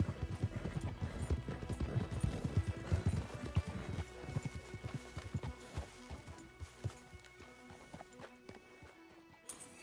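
Horse hooves clip-clopping in Red Dead Redemption 2, a dense run of hoofbeats that is loud at first, then slows and thins into scattered steps, with a brief whinny-like call.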